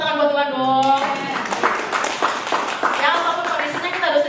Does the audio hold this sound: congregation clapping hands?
yes